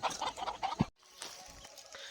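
Free-range chickens kept on a rubbish heap cluck in short, close bursts, then fall quiet, with soft scratching and scattered faint noises after.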